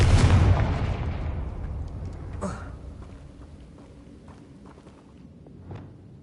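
In the Hogwarts Legacy video game, a Confringo spell explosion bursts loudly at the start and then decays into a long rumbling tail, followed by a brief crackle and a soft thud later.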